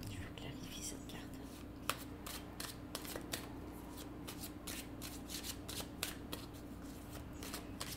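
Tarot cards shuffled in a steady run of soft riffling bursts during a reading, fairly quiet over a constant low hum, with no voice heard.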